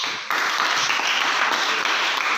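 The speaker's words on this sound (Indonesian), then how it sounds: "Kita berikan aplaus untuk Audra" An audience claps for a student presenter in a classroom, a steady dense wash of applause that starts abruptly after a brief quiet moment and continues evenly throughout.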